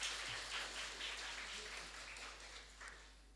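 At a university agriculture faculty graduation ceremony, a hall full of people applauds in a steady, dense wash of clapping that fades slightly toward the end, heard from a distance at a low level.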